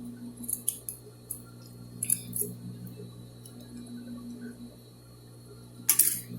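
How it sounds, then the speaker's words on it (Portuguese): Scissors snip away excess fabric at the shoulder of a garment neckline, with a few faint, brief metallic clicks and cuts near the start, around two seconds, and a sharper snip near the end over a low steady hum. "da mesma forma, tiro o excesso de tecido"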